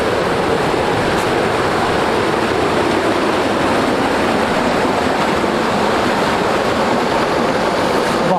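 Icy cold river water rushes past in Barot valley, Himachal. It makes a loud, dense, steady roar and hiss that carries on without a break and with no voices over it.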